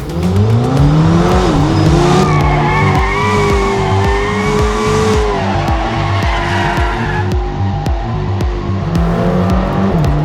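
A four-wheel-drive hybrid V8 sports car's engine revs and roars up close in drift mode while tires squeal in long, wavering howls as it slides, with loud throttle bursts throughout.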